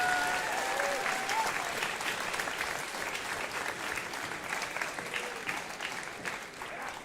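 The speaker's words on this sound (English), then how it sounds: "Please give a big round of applause for all volunteers who have given their time" Audience at a FIRST Tech Challenge robotics league tournament applauding volunteers, a steady, sustained wash of clapping from a large crowd heard at a moderate distance, with faint talk underneath.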